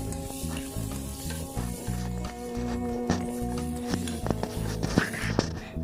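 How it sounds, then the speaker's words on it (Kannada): Beans and carrots frying in a little oil in a pan, a steady close sizzle with occasional stirring scrapes and clicks, no talk. "ಇದು ಸ್ವಲ್ಪ ಎಣ್ಣೆಯಲ್ಲಿ ಚೆನ್ನಾಗಿ ಫ್ರೈ ಹಾಕಬೇಕು"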